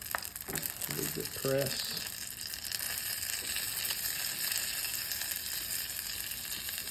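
Food sizzles in a hot buttered pan, with a steady crackling fry close by, a few short scraping and pressing sounds early on, and a brief voice in the middle.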